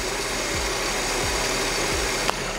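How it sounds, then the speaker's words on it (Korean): A used Infiniti G37S sits with its engine running, a steady low idle with a smooth, even pulse and a faint click near the end, close and alone without talk. "엔진 소리가 너무 좋아서 엔진 소리도 한번 담아 드릴게요."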